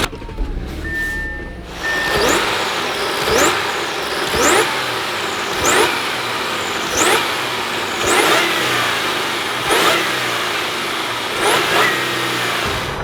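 Supercharged Audi A7 engine running after a supercharger clutch replacement, a steady loud mechanical drone with a sharp whirring pulse repeating roughly every one and a half seconds, close and continuous with no talking.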